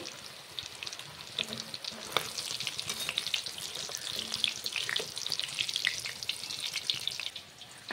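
Chicken pieces for chili chicken crackle loudly as they fry in hot oil. The close, bright sizzle has dense spitting bursts that build toward the end, and no one speaks.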